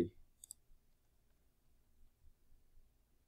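Computer mouse clicks while working in ANSYS APDL engineering software: a sharp close click at the start, then a quick pair of faint clicks, followed by quiet low room hum.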